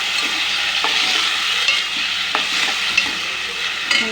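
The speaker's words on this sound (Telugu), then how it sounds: "టమాటాలు కట్ చేసి పెట్టుకున్నా, ఇవి నూనెలో వేసి వేయించుకోవాలి." Chopped tomatoes frying in oil, a loud close sizzle with occasional spoon scrapes and clinks as they are stirred in the pan.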